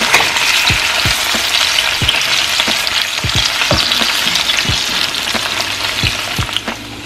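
Salt cod fish sautéing in a pan, loud close frying sizzle broken by repeated soft knocks and scrapes of stirring at an irregular pace, no speech.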